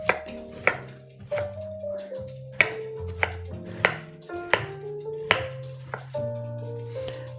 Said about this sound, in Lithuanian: Supjaustim ir lygiai taip pat dėsime į keptuvę.